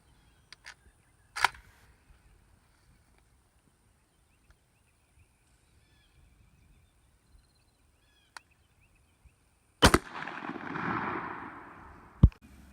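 A shotgun fires a Black Cloud 1 1/4 ounce number 2 waterfowl shell, one loud sharp blast outdoors followed by a rolling echo, with a few quieter clicks and a softer report earlier and a sharp click after.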